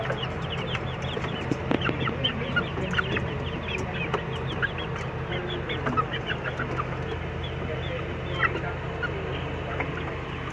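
Four hens and a rooster, freshly fed and kept in a wooden coop, cluck softly and repeatedly at close range over a faint steady background hum, with scattered sharper clucks breaking through.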